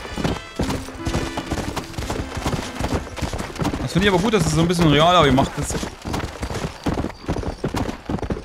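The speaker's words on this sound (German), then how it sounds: "Also eine halbe Tonne Pferd geht ganz schwierig da irgendwo den Berg hoch." A horse in the video game Red Dead Redemption labors up a hill, its hooves clopping in an uneven rhythm with a whinny partway through, while someone talks over the sounds throughout.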